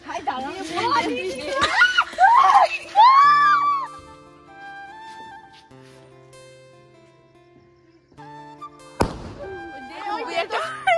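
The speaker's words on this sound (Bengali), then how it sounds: "বম ফাটাতে চলেছে" A firecracker bomb bursts during a Shab-e-Barat celebration at a friend's home, one sharp, loud bang near the end after children chatter and shout close by, with a quieter stretch of background noise before the blast.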